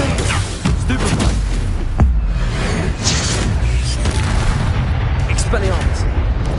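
Spell-casting bursts from Hogwarts Legacy, the Stupefy stunning spell fired amid rapid combat: loud, dense booms and whooshing impacts in quick succession with constant game effects underneath and shouted incantations over the top.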